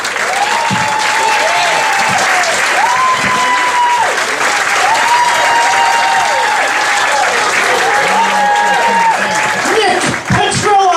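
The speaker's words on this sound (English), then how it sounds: "Please give a round of applause." Stand-up comedy club audience applauding steadily and loudly for the full stretch, dense clapping with a few cheers and whoops rising near the end.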